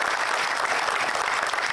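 An audience claps for a newly introduced staff member, giving a brief, continuous burst of dense applause at a steady, fairly loud level.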